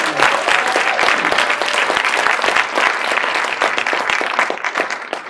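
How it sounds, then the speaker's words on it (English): Audience applause fills a hearing room at a congressional caucus event on addiction, honoring Dr. Murthy: dense, steady clapping from many hands, loud and close, sustained without pause for several seconds with no voice over it. "Let's give a great round of applause to Dr. Murthy."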